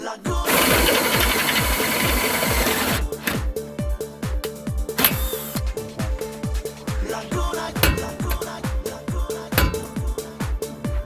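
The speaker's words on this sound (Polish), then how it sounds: "Czyli wiercenie." A power drill runs hard in bursts, its motor whining at first, then a fast, steady rattling hammer as the bit works through metal on a car's shock absorber mounting, up close.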